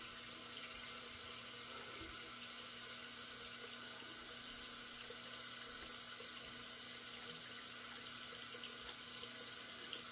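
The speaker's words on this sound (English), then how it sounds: "Switch the sink over to cold. So let that run cold" Cold water running steadily from a bathroom sink faucet, a constant, even hiss and splash that stays at one level throughout, fairly faint and with no talking.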